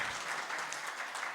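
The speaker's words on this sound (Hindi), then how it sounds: "ज़ोरदार तालियां बजाएं" Steady applause from an audience at a Hindi-speaking community event in a residential colony, honouring a couple, a dense continuous wash of many hands clapping at even loudness through the short stretch.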